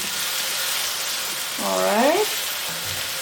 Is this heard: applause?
no